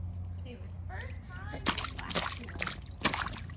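Several close splashes and sloshes as a toddler girl slaps at bath water for the first time, a couple of sharp hits spaced apart, with voices talking around them.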